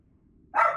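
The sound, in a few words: person imitating a dog barking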